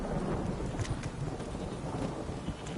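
A heavy downpour roars steadily and densely, with thunder rumbling low underneath the hiss of the rain and no voices.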